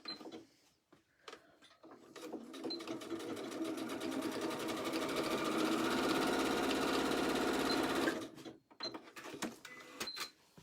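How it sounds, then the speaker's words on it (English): Sewing machine stitching closed a hole in a fabric Easter bag, a steady rapid whirring run of about six seconds between brief handling sounds, close and alone with no talk. "I'm just going to sew that hole up now"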